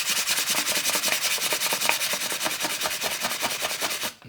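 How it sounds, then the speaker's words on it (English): Sandpaper rubbing back and forth along a bamboo bansuri flute, a steady run of close, raspy strokes in quick even rhythm with no talking, stopping abruptly at the end. "And now this one you can use sandpaper."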